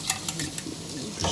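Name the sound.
sauce added to frying sesame chicken in pan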